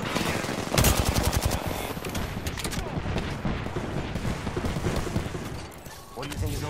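Rapid bursts of automatic gunfire in the Apex Legends battle royale game, loud and close, with dense volleys early on and continued firing throughout, mixed with game effects and a voice talking over it.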